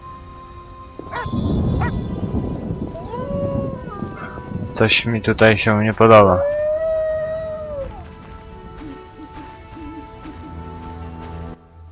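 A dog in The Witcher Enhanced Edition lets out several drawn-out, wavering howls close by, while someone talks quietly over the start of the clip.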